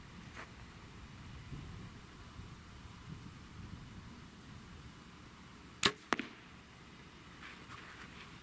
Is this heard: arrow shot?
yes